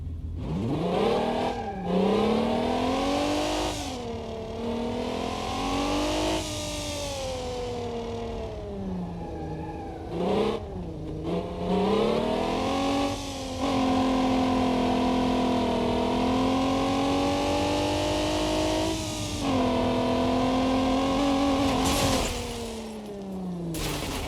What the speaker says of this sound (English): I'll just do the same thing in the Pontiac Fiero. So you can see, so you hear the engine note difference.